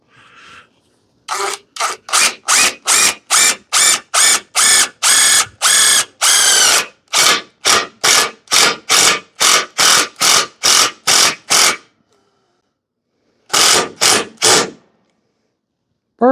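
A ratchet wrench turning a bolt on a trailer tongue makes a long run of loud, evenly spaced ratcheting strokes. After a pause, a short final burst of clicking strokes follows.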